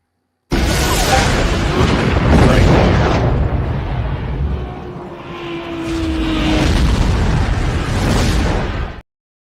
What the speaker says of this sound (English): is a big explosion that ends up in the opening credits later on in the series